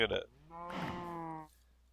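A cow in Minecraft gives a single drawn-out moo after a short higher sound at the start, fairly close and clear, with no talk.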